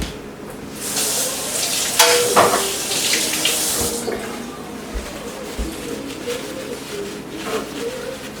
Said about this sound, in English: I'm going to rinse this real quick.